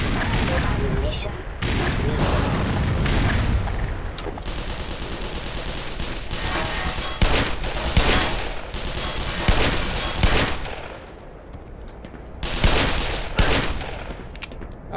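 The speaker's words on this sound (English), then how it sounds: "Here comes a localized carpet bomb." Dense, continuous gunfire and booming carpet-bomb explosions rumble through a Black Mesa firefight, with heavy bursts and impacts overlapping throughout and voices shouting intermittently underneath.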